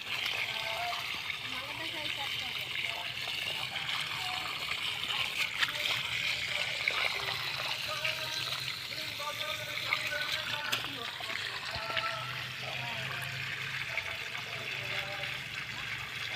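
Water from a 12V pump splashes steadily onto tomato plants in a garden, giving a continuous close pattering spray while people talk over it throughout.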